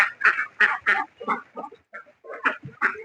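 Egg-laying farm ducks walking out slowly, giving scattered loud quacks close by in uneven bursts, some short and some in quick pairs, with no voices over them.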